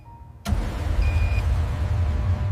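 A car engine kicks in abruptly and runs with a steady, close low rumble, with a brief faint tonal whine partway through.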